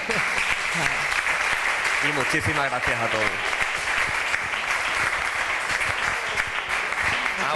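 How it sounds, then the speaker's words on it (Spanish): Loud, sustained applause fills a hall at the close of a cancer awareness conference while a speaker briefly voices thanks over the clapping. "sí me gustaría despedir esta jornada con un aplauso para ella"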